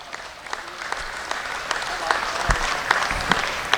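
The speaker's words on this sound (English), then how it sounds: "Let's give all of our exhibitors of champions a nice round of applause" Audience applause at a sheep show, a round for exhibitors of champion sheep including Suffolks: steady dense clapping from a crowd, fairly loud and continuous, with a few sharper claps standing out.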